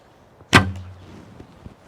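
One sharp twang and thump of an ILF recurve bow releasing an arrow, followed by a short low hum fading into quiet background noise.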